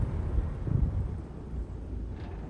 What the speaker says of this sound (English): Of course, the wind.